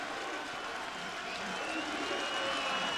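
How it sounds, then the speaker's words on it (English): A football stadium crowd at a college game between Western Carolina and Georgia Southern roars and applauds, a broad continuous swell of cheering that builds slightly toward the end. "And the crowd comes alive."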